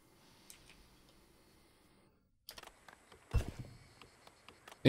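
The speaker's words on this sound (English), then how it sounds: "Is the tile clicking bothering anyone else? It sounds like static to me." Soft tile-selection clicks in the city-building game Farthest Frontier, sparse dry ticks scattered over a faint hiss, with a brief silent gap before a denser cluster of clicks.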